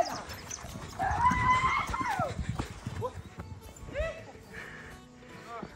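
Mare on a farm, hooves clopping and a short whinny rising over several people talking nearby, fairly quiet and close.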